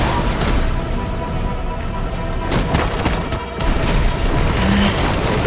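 Magic projectiles fired in rapid succession during combat in Forspoken, a dense, continuous barrage of bursts and impacts against flying enemies, loud and sustained throughout.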